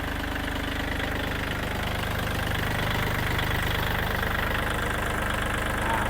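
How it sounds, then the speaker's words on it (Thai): A Kubota L4018SP tractor from 2023, with about 300 hours, idles steadily with a continuous, even diesel thrum and rapid knocking pulse, close and loud with no speech. "เครื่องยนต์นะครับ ไม่มีไอนะครับ"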